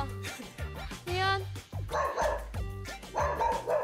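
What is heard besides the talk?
angry dog barking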